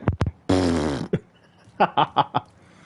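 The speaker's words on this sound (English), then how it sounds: "Sounds like someone farting this gun." A gun firing in The Division 2, a fart-like sputtering burst: two short pops, a longer buzzy blast, then a run of four rapid blurts, close and fairly loud.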